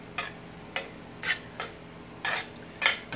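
Minced garlic is stirred into meat browning in a pan for Brazilian-style hot dogs, with six separate scraping strokes of a utensil against the pan over a faint sizzle.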